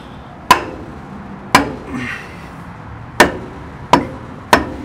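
A cheap pine 2x4 strikes a Dana 60 differential carrier in place of a rubber hammer, giving five sharp, separate knocks at uneven intervals, close and loud over a quiet background.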